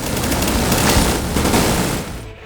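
Sustained automatic fire from a mounted machine gun in The Division 2 during a counter-attack wave, a dense unbroken roar of rapid shots that cuts off near the end.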